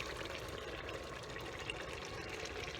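Canned tomato sauce from a 15-ounce can pours into a pot as a steady, close liquid gush that holds a continuous flowing texture with no talking.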